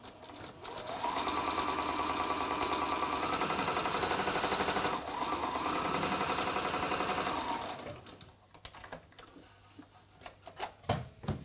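A sewing machine runs a quarter-inch seam joining cushion-top fabric squares: a fast, steady mechanical whir that rattles for about seven seconds, pauses briefly, then stops, followed by scattered clicks and handling sounds.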